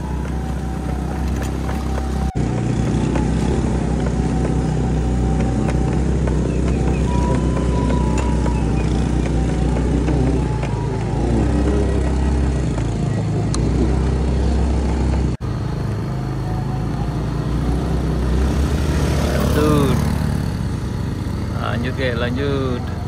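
A motorcycle engine labours steadily as the bike climbs a steep road near a landslide at Muaro Aie, a constant close drone throughout, with a voice speaking over it.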